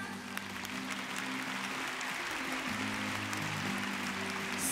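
An audience applauds both teams at a Monster Strike Grand Prix 2024 Japan Championship esports event; a steady, fairly faint wash of clapping carries on for several seconds, with a low hum underneath.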